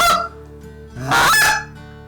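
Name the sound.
goose call imitating honking geese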